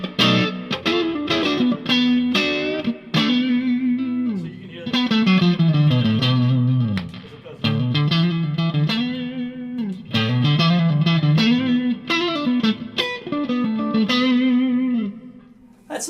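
Electric guitar played through a Timmy overdrive pedal with reverb, giving a slightly overdriven Fender-like tone; a continuous run of picked chords and bluesy lead lines, loud and close, alone.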